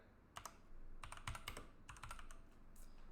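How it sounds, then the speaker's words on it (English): Loud computer keyboard being typed on in bursts of clacking keystrokes, irregular and close, with short pauses between flurries; no voices. "The loud keyboard only helps with reinforcing how bad of a typer I am."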